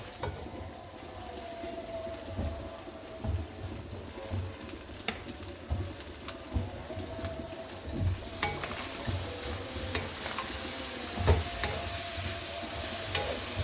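Carrots sautéed in a hot pan sizzle steadily, broken by frequent scrapes and stirring knocks of a utensil against the pan, a close, continuous fry with no talking.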